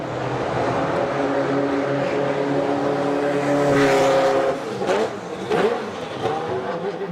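A Ferrari F40 LM race car engine roars loudly and continuously, its harmonic drone rising and holding through a rev, then dipping briefly before surging again close by.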